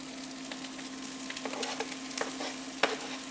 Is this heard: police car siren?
no